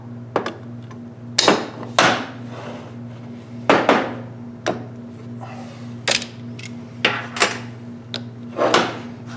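Pry bars and bolts worked while fitting front springs on a 442 Cutlass, giving irregular sharp metallic knocks and clanks spaced a second or two apart over a steady low hum, close up.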